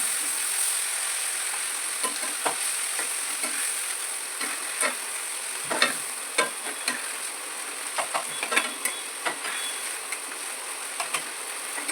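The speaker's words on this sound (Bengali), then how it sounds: "পালং পেস্ট দিয়ে এবার একটু হালকা করে কষিয়ে নেবো" Spinach paste sautéed in oil in a pan, a constant soft sizzle with repeated scraping stirs and spatula taps spread across, close and fairly quiet, no speech.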